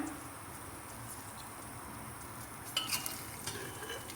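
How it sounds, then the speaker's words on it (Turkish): Red pepper paste sizzles in oil in a pan and is stirred with a spoon, a quiet steady fry with a few louder scraping stirs near the end. "Şimdi yağımı koyuyorum bir büyük kaşık. Biber salçası koyuyorum."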